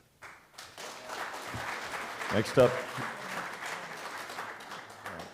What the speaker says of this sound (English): if we could refrain from applause just so that we can get through this